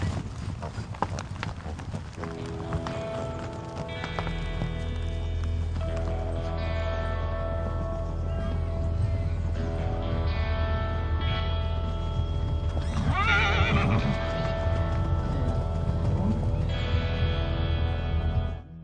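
Icelandic horses trot with clip-clop hoofbeats while one whinnies and neighs, sustained and fairly loud, with background tones beneath.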